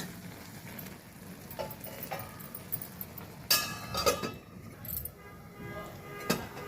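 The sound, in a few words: lid placed on cooking pot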